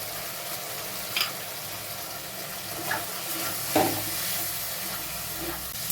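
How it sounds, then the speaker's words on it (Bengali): Spice paste with nuts and Kashmiri chilli fries in a kadai with a continuous broadband sizzle. A few brief scraping stirs rise above the steady hiss. "মশলাটা দিয়ে ভালো মতো কষতে হবে, মশলাটাতে বাদাম আছে, নাহলে কড়াইতে লেগে যাবে"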